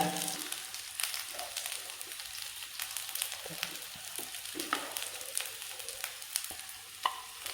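Country-style chicken fries in hot oil, a close, continuous crackling sizzle with scattered pops and occasional stirring clinks, with no talk over it.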